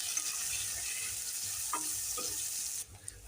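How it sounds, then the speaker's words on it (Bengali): Paneer frying in hot oil in a wok gives a steady, dense sizzle with a few soft stirring clinks, and no one speaks. The sizzle eases off abruptly near the end. "তেলের মধ্যে এখন আমি পনিরগুলো দিয়ে দেবো। পনিরগুলো এখন ভেজে নিচ্ছি।"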